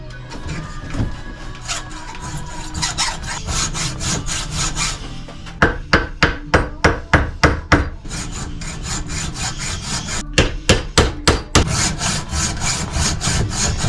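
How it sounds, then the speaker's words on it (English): A hacksaw blade cuts through the collar of lollipop bushes for a BMW E30 brake job: loud rasping strokes, irregular at first, then bursts of quick rhythmic back-and-forth sawing, close and without talk. "put the hacksaw blade through it and cut it"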